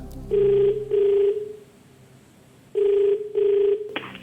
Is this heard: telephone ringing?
yes